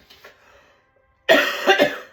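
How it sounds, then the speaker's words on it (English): A person gives a dry cough, a sudden loud harsh burst followed by a second smaller cough, close to the microphone after a brief moment of quiet with faint breathing. "I had my coughing attack"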